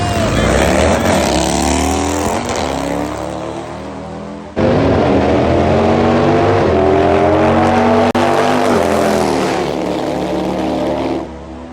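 A Harley and a 1000RR drag racing motorcycle launch side by side at a drag strip, loud engines roaring and climbing through rising revs, dipping briefly between gears before surging again, close and powerful.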